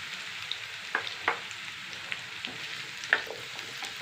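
Cut bitter gourd pieces sizzling as they fry in a pan, a continuous crackling fry broken by a few sharp spoon taps and stirring scrapes.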